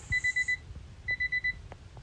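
An alarm clock beeps in quick bursts of four short tones, pausing between bursts, loud and close.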